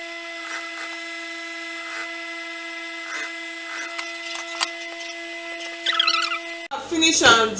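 Stitching the middle seam of a corset top produces a steady mechanical hum with a run of light ticking clicks. Rustling and a voice join near the end.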